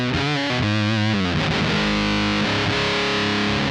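Electric guitar through a fuzz pedal, loud saturated sustained notes with a sputtering, gated edge, a few picked notes sliding into a long held tone that cuts off at the end.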